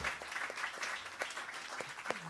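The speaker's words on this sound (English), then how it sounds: "please, a large round of applause for Mr." An audience at a jazz quartet gig applauds the musicians, a dense wash of clapping that stays fairly steady and somewhat distant, with a few sharper claps standing out near the end.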